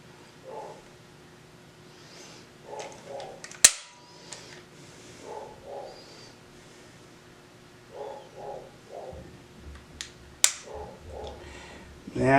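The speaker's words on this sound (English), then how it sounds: "Let's measure double action trigger travel." Heckler & Koch USP 40 pistol dry-fired with double-action trigger pulls: two sharp, isolated clicks a few seconds apart over quiet room noise with faint softer bumps between.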